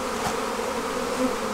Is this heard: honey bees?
yes